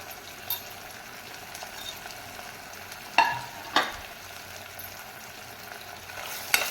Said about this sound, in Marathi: भाज्या आपण आता तेलावर व्यवस्थित परतून घेऊया